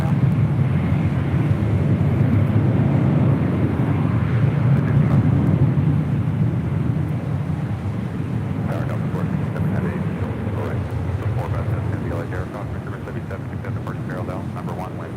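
United Airlines Boeing 787-10 Dreamliner arriving at LAX from Tokyo Haneda, a loud sustained low jet rumble mixed with wind buffeting, slowly easing in intensity.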